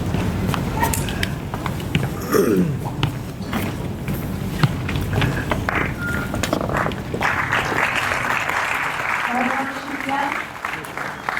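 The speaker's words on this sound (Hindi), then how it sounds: "बहुत जोर से तालियां बजती हैं अनुराग" An audience at a Hindi-language gathering breaks into loud, sustained applause, a dense wash of claps and crowd noise that holds steady for the whole stretch.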